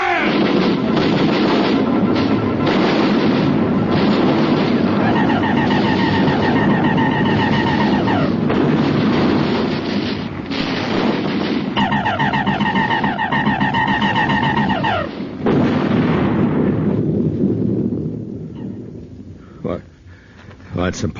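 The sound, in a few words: artillery batteries firing, radio drama sound effect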